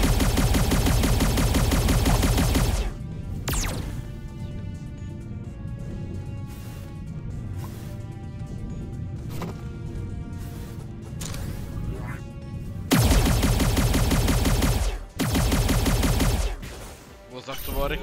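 Gunfire from smugglers in the video game This Means Warp, sharp shot bursts at the start and again near the end, with game music and effects in between.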